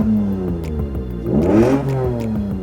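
A Dodge Challenger R/T engine revs up and back down once, a rising then falling roar over a steady idle, recorded close and loud with no talking.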